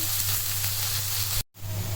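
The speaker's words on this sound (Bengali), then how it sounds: "এখানে মরিচ পেঁয়াজ ভাজতেছি তেলে" Chili and onion frying in oil for a pangas fish curry with potato and cauliflower, giving a steady, close broadband sizzle with a low hum underneath and a brief dropout near the end.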